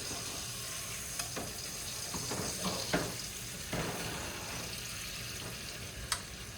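Steak frying in a pan with melting butter and rosemary, a steady close sizzle with scattered sharper pops and crackles throughout.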